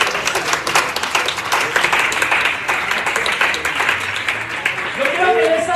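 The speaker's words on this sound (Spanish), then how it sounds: "¿Por qué no le da un fuerte aplauso al Señor Jesús?" Church congregation breaking into sustained loud applause, dense clapping filling the whole stretch with a constant crowd wash and a voice briefly audible near the end.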